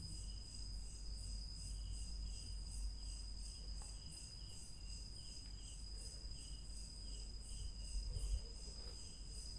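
Crickets chirp steadily in a continuous high, pulsing trill against a quiet, low background hum.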